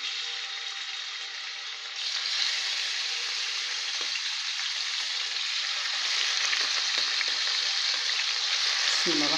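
Homemade chicken shawarma sizzles in hot oil. A steady bright hiss swells louder after about two seconds and holds strong to the end, close up and with no talking.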